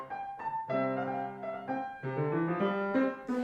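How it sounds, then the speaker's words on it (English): Orchestra and choir perform a Bach cantata French overture in a lively jig, with bright sustained harmonies shifting in quick dancing steps, moderately loud and clear. "the choir comes in with this dancing, very joyful jig figure"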